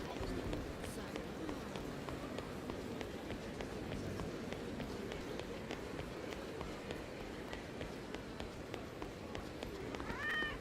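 A cat meows in the Yakuza 0 video game, a short, faint cry near the end over a steady bed of running footsteps and busy street ambience.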